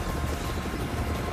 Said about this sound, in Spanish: ¿Otro helicóptero? ¿Cuántos helicópteros hay aquí?